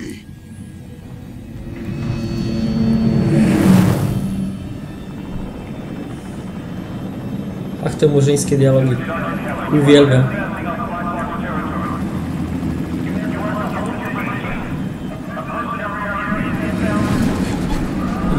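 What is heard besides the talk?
helicopter in video game Prototype 2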